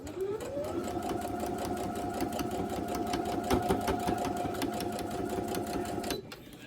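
A sewing machine stitches nested quilt block pieces in one continuous close run, its motor whirring with a rapid steady needle rhythm for about six seconds before stopping abruptly.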